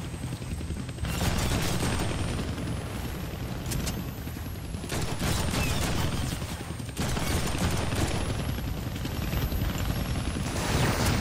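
A helicopter drones continuously while bursts of automatic gunfire rattle on in the Deadpool video game, loud, dense and sustained with a sweeping high whine.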